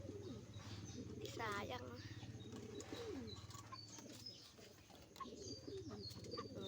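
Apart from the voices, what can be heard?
pigeons cooing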